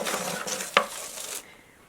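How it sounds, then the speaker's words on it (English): Seed-starting mix of coco coir, vermiculite and perlite pours into a plastic take-out container as a short, soft rustling hiss with one sharp tap in the middle, then stops. "We are going to add some soil now to the bottom."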